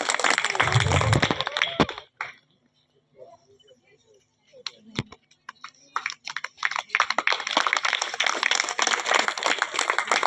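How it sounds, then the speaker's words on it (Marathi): An audience claps for the winner at a Shiv Jayanti speech competition results ceremony: a dense burst of applause, a quiet lull with scattered claps, then the clapping swells again and carries on to the end. "सर्वांनी जोरात टाळ्या वाजवून तिचं अभिनंदन करायचं आहे"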